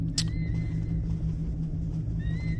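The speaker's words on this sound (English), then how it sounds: "Ah, the classic sickbay sound." Classic sickbay ambience aboard a starship in Star Trek Online: a steady low machine hum with soft high electronic tones that hold, fade and return, plus a brief chirp near the start, no speech.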